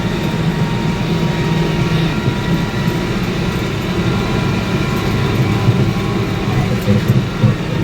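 An IH 3588 tractor on new front tires drives through mud before baling hay. Its engine gives a loud, steady, close rumble that continues throughout, with no talking.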